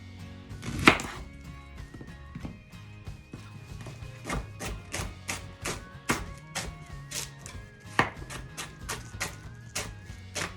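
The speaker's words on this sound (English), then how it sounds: "and then you want to shred them. And they just shred up, kind of like cabbage." A kitchen knife slicing halved Brussels sprouts into shreds on a cutting board for a kale salad, giving a steady run of close, crisp chops and thuds, with a few heavier knocks along the way.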